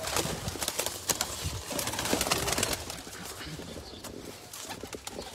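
Teddy pigeons kept by a breeder for sale, cooing close by amid a busy loft of birds, with repeated soft coos, rustling and occasional wing flutters over a steady background.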